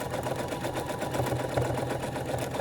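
A sewing machine runs steadily, stitching an embroidery fill in long continuous passes, a close, even motor whir with a fast regular needle rhythm and no talking.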